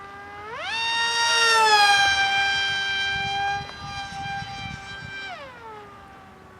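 A 2205 2350 kV brushless motor spins up to a high whine that climbs in pitch, holds loud and steady, then winds down with a falling tone near the end.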